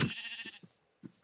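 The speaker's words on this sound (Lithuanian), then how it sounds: "Avys!" A sheep bleats in a hardcore survival video game: one close, nasal bleat at the start, followed by a few soft thumps from the game.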